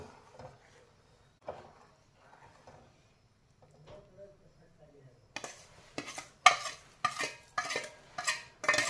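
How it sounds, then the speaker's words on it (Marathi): Semolina (rava) is stirred continuously in a pan: sparse, quiet scrapes at first, then a rapid run of loud, rhythmic spoon-on-pan strokes close up. "सर्व रवा टाकून घेतलेला आहे. आपण कंटिन्यूस आपण हलवत राहायचं आहे, नाहीतर गुठळी होऊ शकते."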